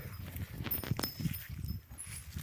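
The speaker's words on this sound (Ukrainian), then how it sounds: "Отака є кобила" A pregnant mare's hooves clop unevenly on hard ground, a few close, hollow knocks amid quiet outdoor noise.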